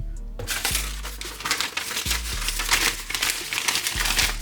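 Paper wrapping being pulled off a pair of headphones, close loud crinkling and rustling in uneven bursts, with a low hum underneath.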